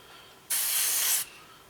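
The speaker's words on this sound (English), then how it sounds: "broke off, so I'll just give that a quick spray." One steady hiss of spray paint aimed at a broken-off part of a 1/48 scale Eduard SE5a biplane model, about three-quarters of a second long, close and alone.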